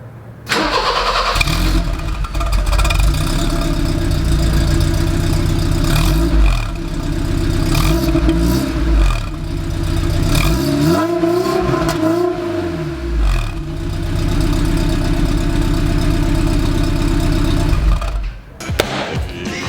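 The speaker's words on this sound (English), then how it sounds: "But yeah, that was the exhaust note." A BMW E30 with a modified, throaty exhaust starts up and is revved repeatedly, loud and close, with deep, rising and falling blips over a rumbling idle and no talk.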